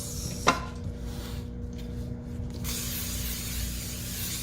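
Pam cooking spray hisses onto a pan while baking cinnamon roll dough, a short close burst after a sharp click, followed by another steady hiss lasting a couple of seconds.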